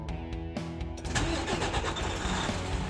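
A truck engine cranks with a few quick whirring turns, then catches and settles into a loud, rumbling idle close by, with no voices.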